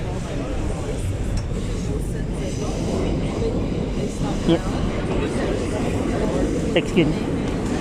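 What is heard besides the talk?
New York R211 subway car riding on the A train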